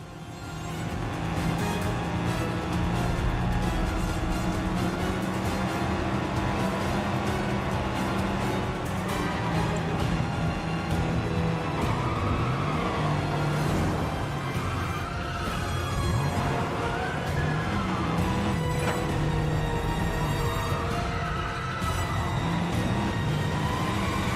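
Car driving through a chaotic chase in the 007 First Light video game trailer, a steady loud engine roar with passing swells, layered under music and effects throughout.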